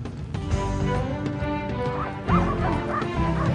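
Sled dogs in the mountains barking and yipping eagerly, a dense, close chorus of overlapping barks and whines with excited bursts toward the end.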